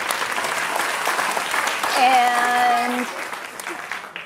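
At a 55+ dating game show, an audience claps for the finalists while a voice talks over it and a brief tone sounds midway, with the clapping fading near the end.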